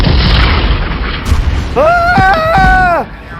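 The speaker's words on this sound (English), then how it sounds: "Pay no attention to the peaceful explosions all around me." Explosions go off around a person in a big US city during street demonstrations and celebrations, a dense, continuous roar of booms that turns into rising, whistling tones near the end.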